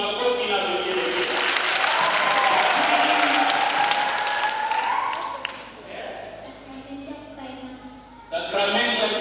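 A congregation at a first communion children's question session at Kijenge parish in Arusha breaks into loud, dense clapping with a wavering high ululation rising above it. The noise fades after about five seconds, and a voice resumes speaking near the end.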